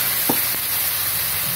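A glass of water hits a hot cooking pan and sets off a steady, loud sizzling hiss that fills the short stretch, with a brief bubbling flick near the start and no voices.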